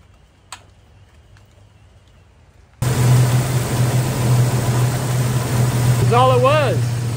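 Jeep Cherokee engine after an idle air control valve repair, starting abruptly into a steady, even idle with a constant low hum close by. Someone speaks briefly over it near the end.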